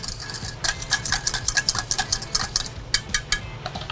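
A whisk clicks rapidly against a bowl, mixing salad oil with steak seasoning into a dressing, making a steady close rhythm of light metallic taps over low background rumble.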